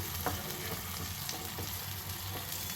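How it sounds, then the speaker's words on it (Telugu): Vegetables fry in a pan for veg dum biryani, giving a soft, steady sizzle with faint stirring knocks throughout. "ఇవి కొంచెం ఫ్రై అవ్వనిద్దామండి"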